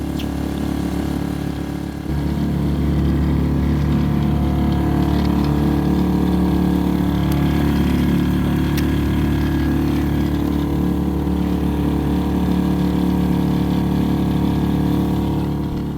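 A small dinghy outboard engine runs steadily at a low drone for the whole stretch, with a faint watery wash underneath and no talking.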